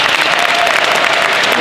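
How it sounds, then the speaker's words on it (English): An audience at a football camp applauds for NFL Hall of Famer Joe DeLamielleure, a loud, dense burst of steady clapping filling the short moment. "please clap it up for Joe D."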